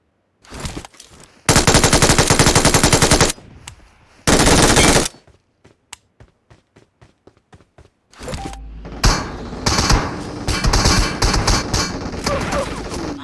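Gunfire in the PUBG Mobile battle royale game: long sustained automatic bursts at close range, then a string of sharp spaced single shots, followed by dense overlapping fire and game effects.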